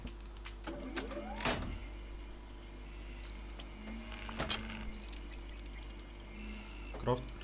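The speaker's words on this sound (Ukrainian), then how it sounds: "Вмикаємо конвейери, вмикаємо збирач, наші ресурси забираються." Conveyors and an assembler switch on in the video game Rust, giving scattered mechanical clicks, a rising whir and short clunks over a faint steady hum, with a voice talking at times.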